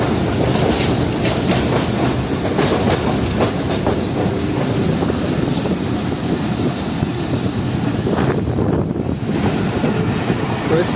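Shah Latif Express running at speed on a stable main-line track between Hyderabad and Tando Jam, a loud continuous rumble and rattle of wheels with heavy wind rushing past throughout.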